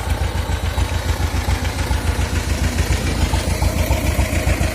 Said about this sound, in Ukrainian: По міжряддях іде трактор.